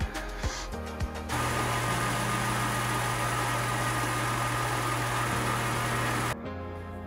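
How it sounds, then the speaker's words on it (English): A small belt sander grinds down a Yamaha Tenere 700 flush-mount blinker part, running as a loud steady whine for about five seconds, then spinning down and stopping. "So we're gonna coax it, actually make it right sized by using a little belt sander."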